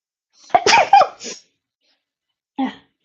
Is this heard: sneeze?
yes